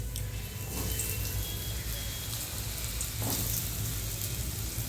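French fries being double-fried in hot oil give a steady, dense sizzle and hiss that runs unbroken throughout, fairly close, with faint voices in the background.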